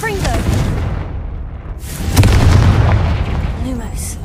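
Spell blasts in the Hogwarts Legacy video game, a couple of booming bursts over a steady din of game sound and voices, with louder impact rumble in the middle section.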